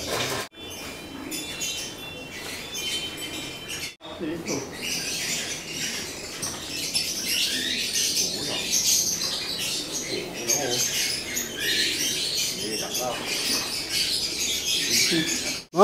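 Pigeons in an aviary peck and scratch at feed after watering and feeding, making soft continuous pattering and shuffling with faint chirps and the odd flutter.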